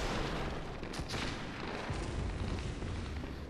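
Gunfire and booming blasts from the video game Bloodborne, a dense, loud barrage of shots with a couple of sharper reports standing out over a continuous rumbling din, no talking.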